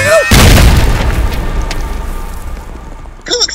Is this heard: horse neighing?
no